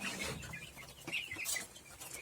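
Chickens and a rooster cluck in a coop among new chicks and geese, with short scattered calls at moderate distance over a soft background.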